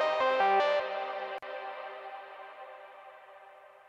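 Baby Audio Crystalline reverb plugin processing a short melodic synth or keyboard phrase, a few quick notes followed by a long, smooth reverb tail that slowly decays to quiet.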